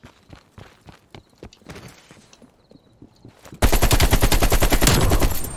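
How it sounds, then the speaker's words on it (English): Gunfire in Call of Duty: Black Ops Cold War, first as scattered thumps and footsteps, then a sudden loud, sustained burst of rapid automatic fire in the last couple of seconds. "someone trying to shoot at me?"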